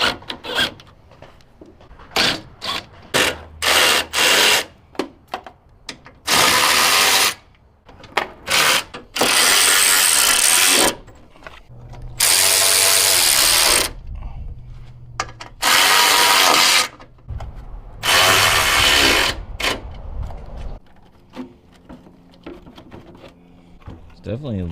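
Power tool bursts loosen bolts on a pickup truck's headlight bracket during a restoration, with repeated short whirring pulses and several longer loud runs, separated by quieter gaps of clinking and handling noise.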